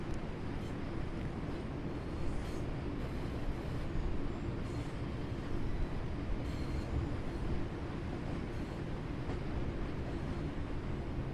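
A train in the Train Sim 5 video game runs on the Blackpool to Manchester Airport route, cornering at speed. Its steady rumble and rolling wheel noise go on without a break, with no talk over it.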